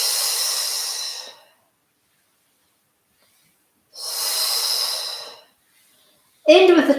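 Slow deep breaths during a yoga exercise, two long airy exhales separated by silence, close and clear, followed by a brief voice at the end.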